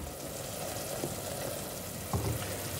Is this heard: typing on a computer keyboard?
no